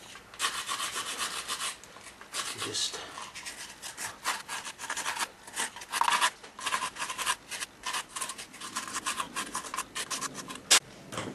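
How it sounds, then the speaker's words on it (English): Steady rasping strokes of a sanding block rubbing across wood, close by, with a brief spoken word partway through. "then using a sanding block"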